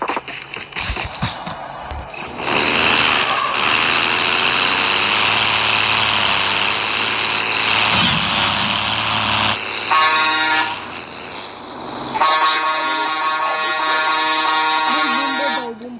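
A loud, steady tank engine roar in Call of Duty Mobile holds for most of the stretch, with a higher tonal horn-like blare near the end and scattered game sound effects underneath.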